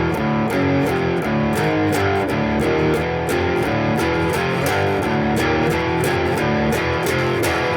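Distorted electric guitar plays the final phrase of a song, a long-winded run of chords in steady, dense strummed rhythm with sharp repeated attacks, loud and close throughout with no talking.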